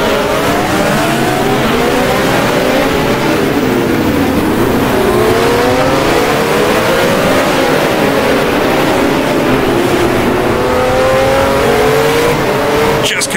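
A 1979-era Formula One car in the Grand Prix Classics racing game screams at full throttle in fifth gear, a loud continuous engine note rising and falling through the run, with faint tyre squeal and no talk.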